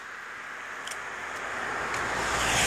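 A car approaches along a washed-out road where gravel and debris have piled several inches high, its broadband road and tire noise rising steadily from faint to fairly loud over a few seconds, with no talk.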